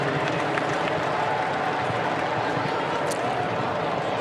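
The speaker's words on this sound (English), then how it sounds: "How about a round of applause for Richmond and Port Melbourne" A stadium crowd applauds after the 2017 VFL grand final between Port Melbourne and Richmond. The clapping is a wash of steady, fairly distant noise that holds evenly throughout.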